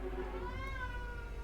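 A pet cat meows in a long, rising and falling call, close and clear over a steady low background hum, with no talking.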